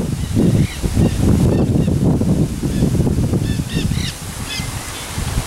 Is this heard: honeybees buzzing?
no